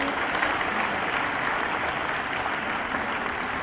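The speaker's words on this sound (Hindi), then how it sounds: "तो आप सबकी तालियां जरूर इसके लिए जरूरी हैं" An audience at a government awards program in Bhopal attended by CM Shivraj breaks into sustained applause. The clapping is dense, even and unbroken, filling the hall from start to finish.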